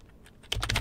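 A computer keyboard being typed on for a Linux command during a chroot setup: a quiet pause, then a quick close burst of about six crisp keystrokes in rapid succession.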